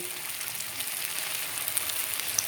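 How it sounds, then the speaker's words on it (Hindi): Sago balls frying in hot oil over medium heat give a steady, faint bright sizzle with tiny crackling pops, continuous and without speech. "हम इसमें एक एक बॉल डालते जाएंगे। इन्हें डालकर हम मीडियम आंच पर इनको तलेंगे।"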